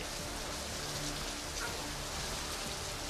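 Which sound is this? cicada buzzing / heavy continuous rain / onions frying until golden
heavy continuous rain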